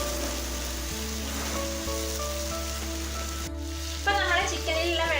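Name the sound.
chicken frying in a pan for butter chicken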